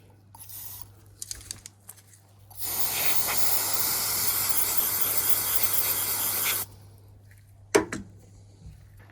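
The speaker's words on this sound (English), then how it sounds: "I properly sprayed out both plugs with contact cleaner" Contact cleaner hisses out of a spray can in one continuous, loud, close burst lasting about four seconds into electrical plugs on a Land Rover Discovery TD5, with faint handling clicks before and after.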